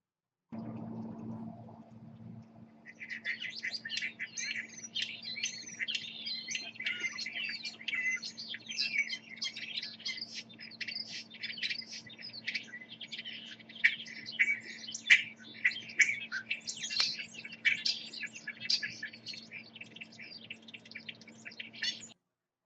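European starlings call in a busy, continuous stream of chirps, whistles and rattling squeaks, layered and fairly close, with a low steady hum underneath and no voices.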